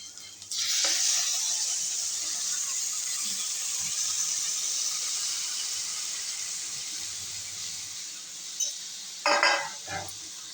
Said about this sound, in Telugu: ఇలా మంచిగా కలుపుకున్నాం కదా